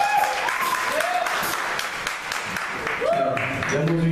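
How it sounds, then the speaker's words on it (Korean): An audience at a live show in Korea breaks into sustained applause, a steady wash of clapping heard under a voice speaking over it. "박수 한번 해주세요."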